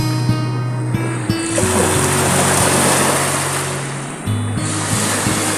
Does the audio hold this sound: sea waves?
yes